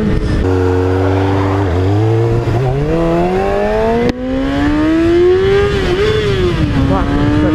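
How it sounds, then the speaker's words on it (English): A car engine revs hard after a missed shift into second gear, a loud close whine climbing steadily in pitch, briefly dipping, then rising again and wavering at high revs. "Oh, that's a good way to miss second gear."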